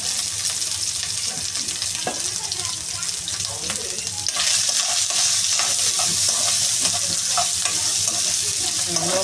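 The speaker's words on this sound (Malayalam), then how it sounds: "തേങ്ങ വറക്കുവാണ് നെയ്ക്കകത്ത്" Grated coconut frying in ghee for parippu payasam gives a loud, steady sizzle with stirring and scraping throughout, growing denser and brighter partway through.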